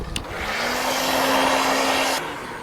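A heat gun blows hot air in a steady, loud rushing whoosh with a faint whine underneath, starting after a brief click and cutting off after about two seconds, leaving a fading hiss.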